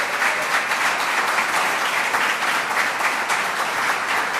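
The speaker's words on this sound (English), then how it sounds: "Let's give that a round of applause." Steady crowd applause fills the space at a state governor's summer recreation announcement at Jones Beach, a dense, continuous wash of many hands clapping at an even level with no talk over it.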